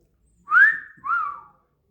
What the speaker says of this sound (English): So I gave a wolf whistle